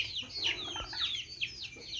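Farm chickens of a breed raised for sale, kept on grass, cluck and chatter in a quick series of short calls, fairly faint and close, with no talking over them.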